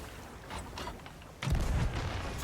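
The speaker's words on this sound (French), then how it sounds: "je tire au canon" A ship's cannon in the pirate video game Sea of Thieves fires as a sudden low boom that lingers as a rumble, heard after a quieter stretch of ambient game sound.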